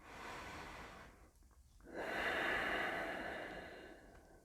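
Deep breathing during a yoga flow class: one slow, close breath, a short pause, then a long, audible exhale that fades out, with no talking.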